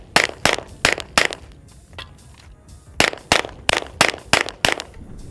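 Pistol fire on an outdoor range during a reload drill: a quick run of sharp, loud shots, a short pause for the reload, then another fast string of shots.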